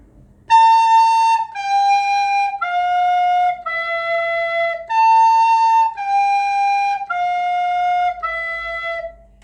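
A recorder (Catalan beginner course) plays eight clear, sustained notes, a short descending four-note run (la, sol, fa, mi) heard twice, each note steady and bright with no talking.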